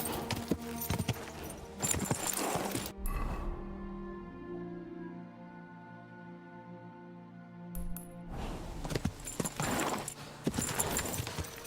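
Horse hooves in Kingdom Come: Deliverance II clatter in bursts at the start and end, with a quieter stretch of steady tonal game sound between them.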